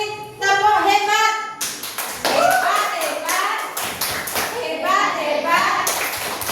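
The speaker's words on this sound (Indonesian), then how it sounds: "Kita kasih tepuk hebat." A primary school class claps out a short rhythmic 'tepuk hebat' pattern in a classroom, quick taps in bursts, with a teacher's voice and children's voices chanting along between the claps.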